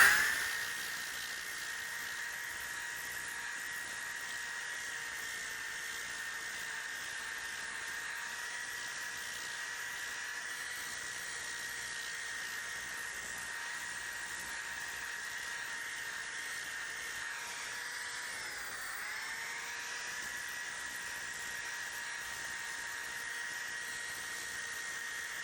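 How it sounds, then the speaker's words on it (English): Steady, continuous high whine of a disc sander fitted with a 60 grit disc grinding a hand-carved wooden heart, held close and level for the whole stretch with only a slight dip in pitch near the end; no voices. "So let's get this thing sanded. I've got a 60 degree on my disc sander."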